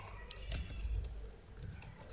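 Keys tapped on a computer keyboard while entering an SQL query in SQL Server Management Studio, a close run of light, uneven clicks over a low background hum, with no one talking.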